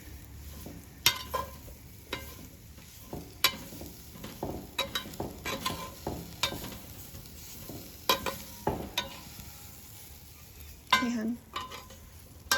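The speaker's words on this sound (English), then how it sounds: "roux or a gravy, you want to make sure your flour cooks too, because raw flour does not taste great. Just kind of stir it around." Flour roux stirred in a Dutch oven over a Solo Stove: repeated scraping and clinking strokes of a utensil against the pot, irregular and close, with faint sizzling and a brief word spoken.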